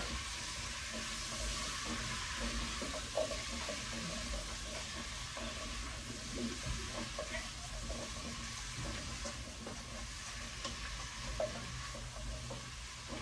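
Chayote sautéing in a pan for mussel tinola, a steady broadband sizzle and frying hiss that holds throughout with faint stirring scrapes, close and continuous.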